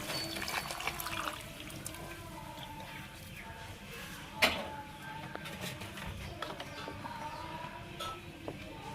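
Hot water is poured over mushrooms to wash them, making a faint, steady splashing flow, with a brief clink about halfway through.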